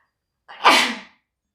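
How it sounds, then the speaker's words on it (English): A single sharp sneeze with a quick intake and explosive burst, close and loud, on its own with no talking. "I'm gonna sneeze."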